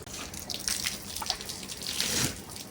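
Dirty, dusty water runs off solar panels while they are being cleaned, a faint steady trickle and spatter of dripping water with no voices.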